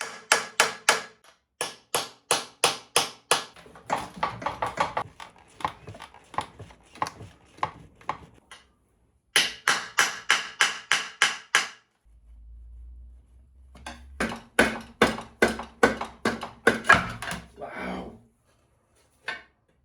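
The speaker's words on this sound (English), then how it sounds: "Time for a chisel and a hammer." Repeated hammer blows on a chisel work a rubber mount free from a 1968 boat engine, sharp metallic strikes coming in quick bursts of rhythmic taps with short pauses between rounds.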